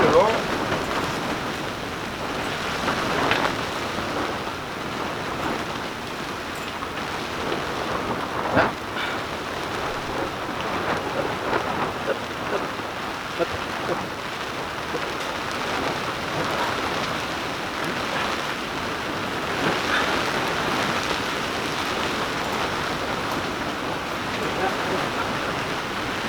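Rain and wind in an open field, a steady broadband hiss of rainfall and gusting air that fills the whole stretch at a moderate, even level, with no clear voices over it.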